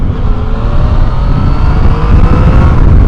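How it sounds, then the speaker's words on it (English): Yamaha MT-09 Tracer (FJ-09) motorcycle, 2015 model, accelerating hard in standard mode, a steady loud engine drone with rising whine and wind rush throughout, no voices. "I quite like the acceleration from the Tracer in standard mode"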